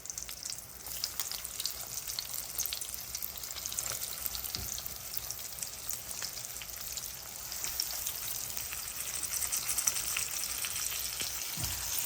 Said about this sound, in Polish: Teraz na dobrze rozgrzany olej układam plastry mięcha.